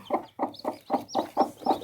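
A hen clucks in a steady series of seven short, close calls, evenly spaced with brief pauses between, on a farm with chicks nearby.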